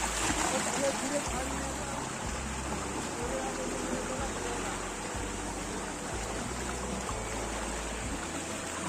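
Water flows in a forest stream while someone wades through it. A constant rushing, burbling wash fills the scene, with low rhythmic thumps and indistinct voices in the background.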